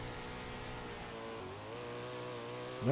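A roaring 410 winged sprint car engine on the Williams Grove Speedway dirt track drones steadily at high revs, its pitch dipping briefly then climbing, with a sharp rising whine at the end.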